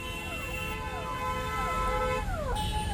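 An ambulance siren wails in a traffic jam, its pitch sweeping up and down repeatedly, loud and close over a rumbling background of engines and street noise.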